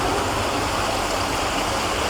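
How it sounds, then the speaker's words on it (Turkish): Water rushing steadily through a cave, forming a small natural waterfall as it flows deeper inside; a loud, continuous broadband roar fills the whole clip with no voices. "mağaranın derinliklerine doğru akan suyun sesi"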